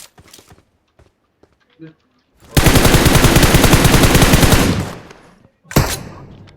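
Rapid automatic gunfire in PUBG Mobile on the Miramar map, a loud sustained burst of about two seconds followed by a shorter burst, with scattered softer game sounds before it.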